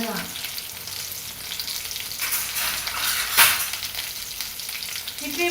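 Okra fries in hot oil for a tamarind curry, giving a steady, fairly loud sizzle with crackling bursts and a brief stir around the middle, no voices.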